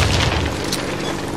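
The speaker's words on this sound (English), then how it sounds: "Throw a grenade and hit multiple targets." A grenade goes off in the shooter game Warface during a training mission, a loud, dense blast that roars continuously across the whole moment, with no voices.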